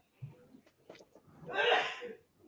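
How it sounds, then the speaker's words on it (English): A single sneeze bursts out after a few faint murmurs and breaths, sharp and fairly close. "brother sneezing in the background"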